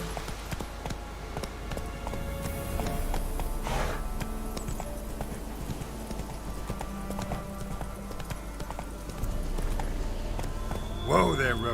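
Hooves of the horse Roach clip-clop at a steady gallop in The Witcher 3, rhythmic and close, with game sounds and occasional voices layered over the hoofbeats.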